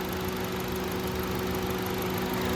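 A 2013 Honda CR-V EX-L AWD's 2.4-liter four-cylinder engine idling with the hood open after 128,000 miles, a steady, even hum with a constant low tone, close and unbroken throughout.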